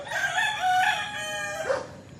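Roosters crow over one another at a chicken farm in Bauang, La Union, with several loud, overlapping cock-a-doodle-doos and fowl clucking close by through the whole stretch.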